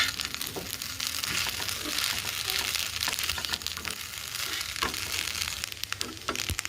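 Potato and egg pasta is stirred in a hot pan, giving a steady close sizzle with scraping and small clicks of the spoon throughout.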